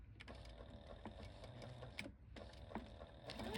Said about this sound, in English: I'm going to put it in place and start sewing.